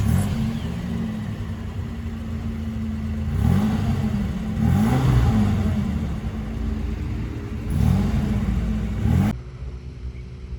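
A second-generation two-door Mitsubishi Pajero's V6 gasoline engine idles with a steady rumble, then revs up and down in several rising swells before cutting off near the end.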